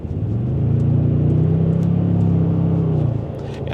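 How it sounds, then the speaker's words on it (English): A deep engine rumble swells and holds steady, then eases off, the 2025 Toyota Tundra TRD Pro's augmented engine and exhaust sound played through the cab speakers. "they do have some augmented motor and exhaust sounds coming through this sound system"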